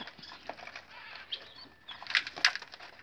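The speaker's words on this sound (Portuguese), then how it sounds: "as araras passando, o barulho das araras" Faint rustling and flapping of macaws passing overhead, with a few brief raspy bursts near the end against a soft outdoor background.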